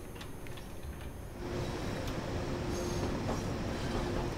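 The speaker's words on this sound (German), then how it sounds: "wir hören wieder die 185, die nähert sich schon mit ihrem etwas komischen Sound" A BR 185 electric locomotive draws near in the Train Sim World 4 game, a low rolling rail rumble that swells noticeably louder partway through and then holds steady.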